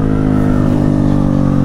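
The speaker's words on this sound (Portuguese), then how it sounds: "deixa os caras escutarem o barulho da moto" A Honda CG160 Titan motorcycle with a full stainless-steel Atalla exhaust revs loudly up close, a dense throbbing exhaust roar held steady for a moment.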